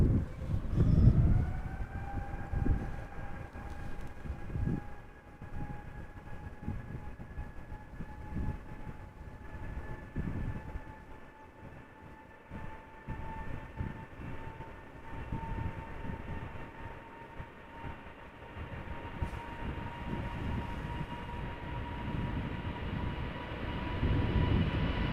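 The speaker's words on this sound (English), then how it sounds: "Rolls-Royce XWB engines inbound, ladies and gentlemen. Might get a little loud." An airliner with Rolls-Royce Trent XWB engines comes in to land at Amsterdam Schiphol, a steady loud roar with a sustained rising whine that holds throughout, close by and growing fuller.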